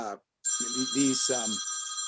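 A telephone rings with a bright, steady electronic bell tone, and a person talks over it at close range.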